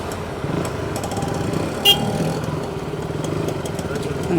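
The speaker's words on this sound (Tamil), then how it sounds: "இந்த ஆட்டோ சத்தத்தை கேட்டா கொழும்பு" An auto rickshaw engine chugs steadily on a street, a loud close idling putter running throughout with a brief higher clatter, while a person talks over it.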